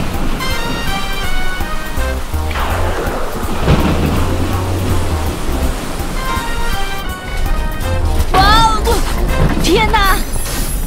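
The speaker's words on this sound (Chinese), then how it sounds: "天哪，遇到暴风雨了" A thunderstorm with heavy rain at sea batters a pirate ship, with rolling thunder rumbles and constant rain hiss, while voices cry out in alarm above the storm.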